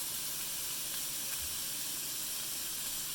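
Onion and peppers fry in regular vegetable oil, producing a constant soft hiss and sizzle, fairly quiet and even throughout, with no talking.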